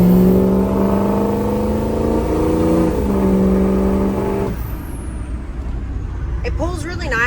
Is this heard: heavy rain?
no